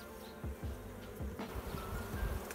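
Black honey bees swarming at an opened hive, a steady close buzzing drone with individual bees sweeping past, faint and uninterrupted throughout.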